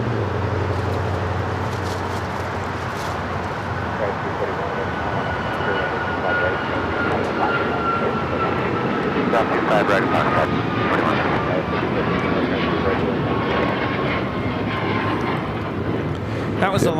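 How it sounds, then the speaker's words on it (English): Alaska Airlines Boeing 737 MAX 9 taking off at LAX, a steady distant jet engine roar with wind buffeting the microphone and people chatting throughout. "That was Alaska 1412 taking off to Liberia on the MAX 9."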